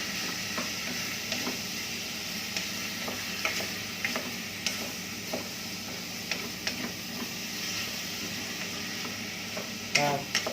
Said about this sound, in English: So in the pan that goes, and we're going to saute that around,